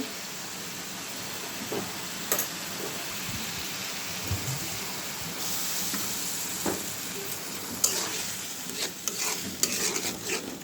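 Ground turmeric, cumin and salt fry in oil while being stirred, a steady sizzle broken by repeated scraping and clinks of a spoon against the pan, close and clear.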